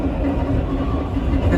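Interior ride on an MTA nostalgia Lo-V subway train, a steady loud low rumble with faint rhythmic wheel clatter, heard close up from inside the car.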